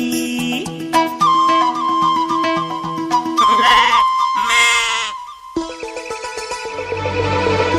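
Sheep or lambs bleat loudly over music with tonal whistle-like melody lines, the animal calls mixed into the song rather than heard alone.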